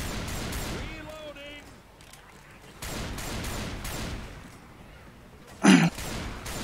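Gunfire in Left 4 Dead 2 comes as rapid bursts of shots, loud and close, with a sharp louder blast near the end and voices talking among the shots.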